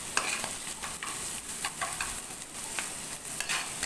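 Spicy masala Maggi ingredients stirred in a hot pan: a steady close sizzle broken by quick, repeated scraping strokes of a spoon, with no talking.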